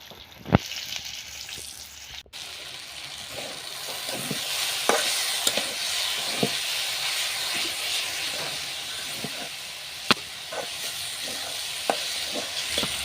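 Green chilies and chopped onion fry in a pan, giving a steady, close hiss and sizzle with a few sharp scraping clicks of stirring scattered throughout; no one speaks.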